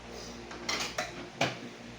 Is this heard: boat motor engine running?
no